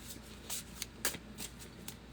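Tarot cards being shuffled by hand, a close, quiet run of crisp riffling flutters and soft slaps repeating in a quick, uneven rhythm.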